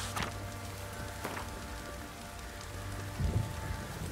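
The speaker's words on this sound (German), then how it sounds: "Die Wettermacher haben uns Regen gebracht." Rainfall in The Witcher 3 video game, a steady hiss of drops on surfaces running throughout at moderate level, with a couple of soft low rumbles and a brief thump near the end, no speech.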